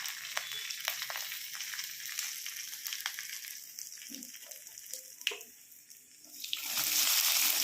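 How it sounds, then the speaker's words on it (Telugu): Mustard seeds, cumin and urad dal sputter in hot oil, a soft crackling hiss with scattered pops, then a fuller rushing sizzle swells near the end. "బాగా కాగిన తర్వాత ఆవాలు, జీలకర్ర, మినప్పప్పు తాలింపు వేసుకోవాలి"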